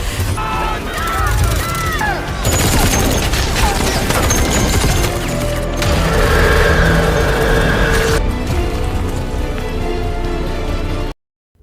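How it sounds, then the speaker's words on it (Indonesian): A SWAT team opens fire in a film scene, with bursts of rapid gunshots amid loud, dense action sound effects and music, while voices speak over parts of it. "Tim SWAT kemudian menembak Isaac hingga tewas."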